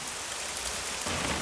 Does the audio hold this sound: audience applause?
no